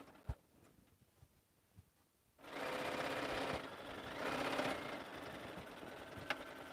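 A sewing machine stitches batting along the edges of a quilted lined stocking: a few soft clicks first, then a steady, close mechanical whirr that runs continuously, easing slightly and picking up again.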